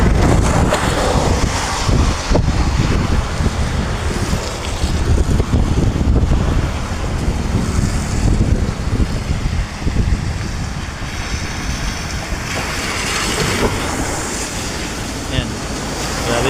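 A deep river swollen by Typhoon Crising rushes close to overflowing, a loud, continuous roar of churning water mixed with gusty wind buffeting the microphone.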